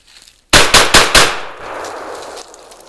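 A TriStar Raptor A-TAC shotgun fires four rapid, very loud, close shots in quick succession, each with a sharp crack, followed by a fading echo and brief rustle.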